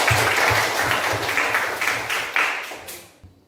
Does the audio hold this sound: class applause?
yes